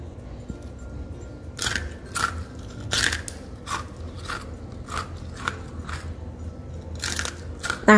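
Crisp, crunchy bites into fried cookies shaped with bottle-cap molds, a series of sharp crackling snaps spaced about a second apart, close and clear with no talking.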